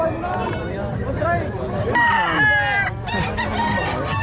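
Chickens cluck continuously, with a rooster crowing partway through, over a busy background of crowd chatter at a chicken market in Lemery, Batangas.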